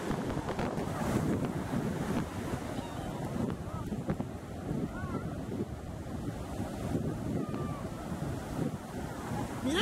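Ocean waves and wind at Huntington Beach: a continuous rumbling wash of surf with gusty wind buffeting the microphone, steady and fairly loud throughout.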